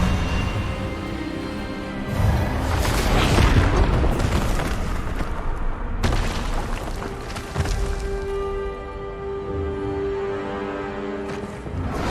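Spell-casting blasts of Expelliarmus in the Hogwarts Legacy video game, loud booming bursts over a sustained musical score, with a strong impact near the start and another sharp hit midway.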